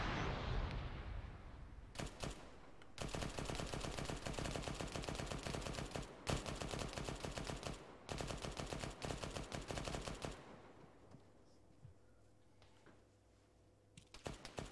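Bursts of rapid automatic gunfire from the video game Arma 3 rattle on for several seconds with short breaks, then give way to quieter ambience and scattered distant shots.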